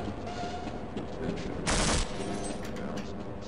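Automated turrets in the video game Half-Life 2 let off a short, loud burst of rapid gunfire midway through, standing out from a steady background of game ambience.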